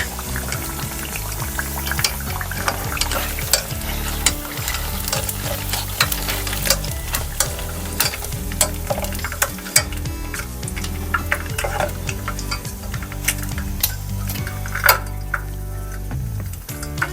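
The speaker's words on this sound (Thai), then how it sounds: "แล้วทอดชุดต่อไปนะคะ" Potato pieces deep-fry in a pan of oil with a dense, continuous sizzle, broken by frequent sharp clinks and scrapes of a utensil stirring and lifting them, close and loud.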